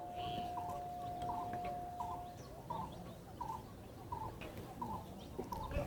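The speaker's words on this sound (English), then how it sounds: "I don't know what this bird is." An unidentified bird calls in the morning near Vrindavan, repeating a short call at a steady, quick rhythm over a constant outdoor rumble, moderately close and clear.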